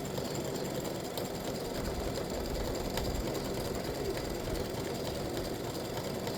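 An embroidery machine stitching the cone of a patriotic ice cream cone design runs in a steady, rapid mechanical chatter, close and continuous with no pauses.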